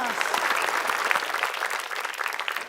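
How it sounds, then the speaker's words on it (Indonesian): Studio audience applause on a quiz show night, a dense steady wash of clapping that holds evenly loud from start to finish. "Tepuk tangan dong buat Seng dan Abbas"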